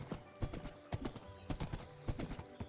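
Steady clip-clop of horse hooves in the video game Minecraft (RLCraft modpack), a quick repeating rhythm of hoofbeats, clear and close, with no speech.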